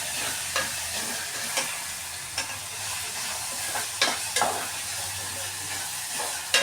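Eggs fry in a pan for egg curry under a soft, constant sizzle broken by several sharp utensil scrapes and clicks, fairly quiet and close.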